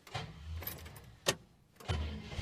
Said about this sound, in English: Starter motor plays up occasionally